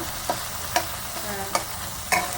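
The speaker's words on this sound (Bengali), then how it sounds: "এটা ভালো করে নেড়ে ছেড়ে একটু টমেটোগুলো নরম হতে দেবো।" Onions and tomatoes frying in oil for a Bengali-style katla fish curry, with a steady low sizzle and four sharp spoon-stirring scrapes spaced evenly across the pan.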